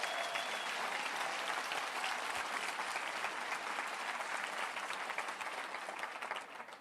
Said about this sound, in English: Give a big round of applause, please.